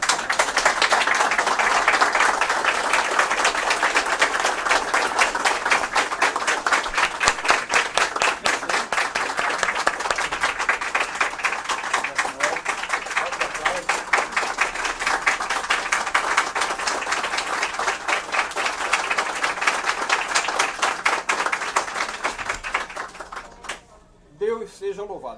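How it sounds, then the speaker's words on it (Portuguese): A standing audience at a public meeting claps loudly and steadily for over twenty seconds as a dense, even roar of hands, which thins and breaks off near the end. "de pé a gente podia dar uma salva de palmas a esses dois baluartes"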